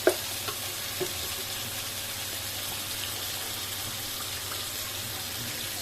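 Ground spices for taro greens and shrimp frying in a pan, giving a close, even hiss of sizzling oil with a couple of early clinks from stirring, and no voices.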